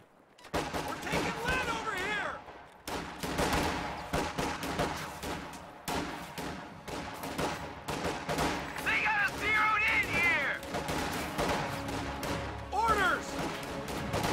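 Rifle and machine-gun fire crackles in a dense, steady barrage as riflemen engage grenadiers at close range in a video game battle, with loud bursts and crashes layered under a voice commentating.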